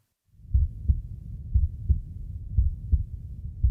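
A pounding heartbeat effect in a radio ad thumps steadily in low, muffled double beats, about two pulses per second, loud and alone with no talk.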